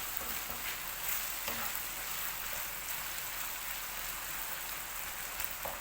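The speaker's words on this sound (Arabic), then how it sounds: "ارجع تاني اللحمه على النار" Beef chunks seasoned with vegetable stock cube, salt and pepper cook in a pot on a stove for an onion and vegetable tagine, giving a steady soft sizzle and crackle with occasional stirring sounds, no voices.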